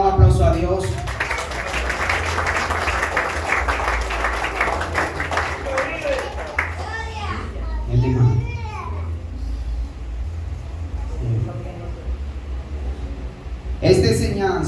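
A church congregation claps in a dense burst of applause that fades after a few seconds, then someone speaks, with a brief clatter of clapping returning at the very end.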